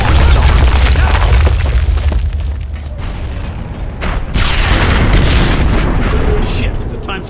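Gears of War combat, loud and dense, with heavy booming blasts, rattling gunfire and mechanical clanks filling the whole stretch, surging again near the end, while voices speak over the din.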